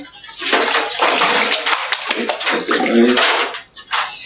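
Cold water pours steadily into a tub in a broad, continuous rush, loud and close, with a voice and other talk cutting in over it.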